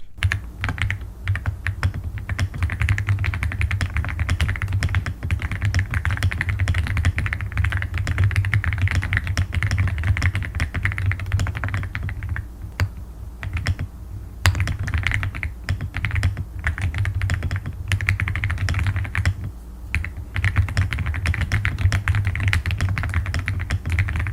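Rapid, continuous clicking of keys on a new computer keyboard, close and steady with brief pauses over a low background hum, no voices.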